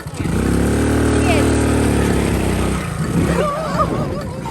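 A motorcycle engine idles with a steady low throb, then shifts gear and pulls away, the sound fading as it moves off while people talk nearby.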